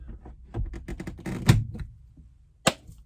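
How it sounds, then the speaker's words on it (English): The upper cabin door of a Piper Arrow airplane, its latch just adjusted, shuts and latches nearby: a quick run of rattling metal clicks and knocks, a firm thump, then a single sharp latching clack, with no talk. "And now I can close the door"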